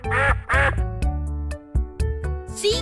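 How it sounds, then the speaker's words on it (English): A duck gives loud, harsh quacks up close, two long calls followed by a quick run of shorter ones, alone with no voices. "Duck."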